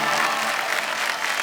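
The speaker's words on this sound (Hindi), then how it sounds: "तालियां बजाते रहो।" Sustained applause from a quiz-show studio audience, a dense steady patter of many hands clapping at constant loudness throughout, with no voices over it.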